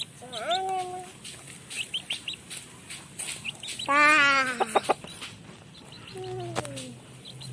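Chickens cluck and call in a rural Indonesian yard, sending out several rising, nasal squawks, including a loud run of rapid clucks midway, over steady outdoor background noise.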